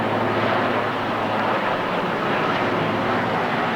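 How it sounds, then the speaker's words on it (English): A low, steady helicopter drone rumbles continuously as it passes overhead a lawn bowls match at the 1984 World Singles Final, with a constant hum and broadband roar and no voices. "A helicopter passes overhead, but Peter Belliss oblivious to the noise"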